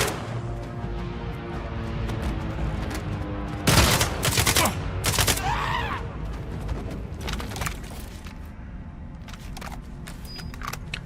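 Assault rifle fire from the video game STALKER 2, loud bursts of rapid shots over a steady in-game background, with a few separate sharp reports.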